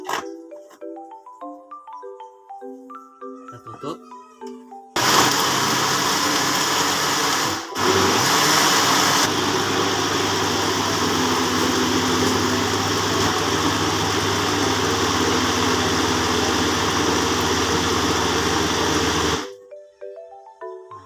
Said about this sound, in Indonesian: sesudah kita blender sampai halus